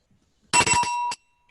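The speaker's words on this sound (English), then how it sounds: "Here's my bell." A club president rings a handheld bell to open a weekly Rotary Club luncheon: a short burst of bright, ringing metallic strikes lasting about half a second, close and loud, with a brief final ding and no talking.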